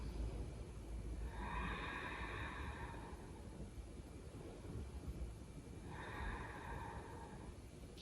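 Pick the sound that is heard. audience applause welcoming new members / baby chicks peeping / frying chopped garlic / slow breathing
slow breathing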